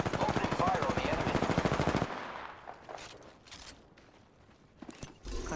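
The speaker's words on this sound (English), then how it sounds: "Opening fire on the enemy." Rapid automatic gunfire in the Apex Legends video game, a loud dense burst for about two seconds, then quieter scattered shots and game effects with a few sharp cracks near the end.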